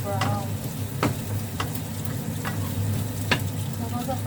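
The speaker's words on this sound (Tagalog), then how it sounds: "Gusto ko sa fried rice yung garlic niya nagpa-brown." Garlic fries until brown for fried rice, a steady close sizzle with a few sharp clinks of a utensil against the pan.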